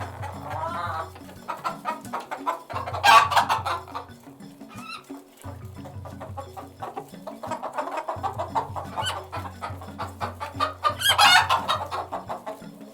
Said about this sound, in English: Hens like Harmony cluck softly while scratching for food.